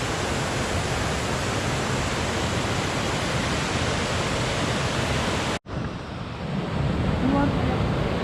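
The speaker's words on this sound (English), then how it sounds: "we are near and we can hear the waterfall sound" Bandaje Falls roars as a dense, steady wall of rushing water, loud and close, broken by one brief dropout before the torrent resumes at full strength.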